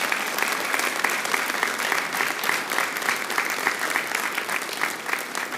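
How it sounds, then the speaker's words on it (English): A crowd applauds steadily at a city council meeting, dense clapping from many hands sustained throughout at an even, moderately loud level. "let's give them again a round of applause."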